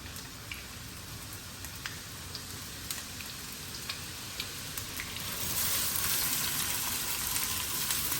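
Onions sizzle and crackle in hot oil in a pan for karela chicken, a steady close frying hiss with scattered pops that swells louder partway through, no talking.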